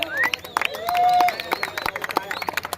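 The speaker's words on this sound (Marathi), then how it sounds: "सगळ्यांनी त्यांच्यासाठी टाळ्या वाजवायच्या आहेत" A crowd at a Dahi Handi festival applauding a sponsor: scattered, uneven clapping mixed with hubbub and whistles, fairly close, with a voice over a loudspeaker heard briefly among the claps.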